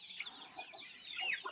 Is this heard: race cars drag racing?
no